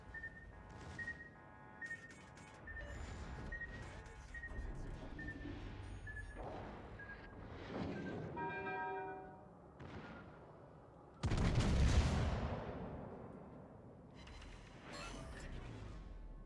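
Naval guns boom in the World of Warships: Legends game, one heavy blast standing out above ongoing engine hum, beeping interface tones and scattered smaller reports.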